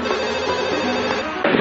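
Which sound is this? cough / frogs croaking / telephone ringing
telephone ringing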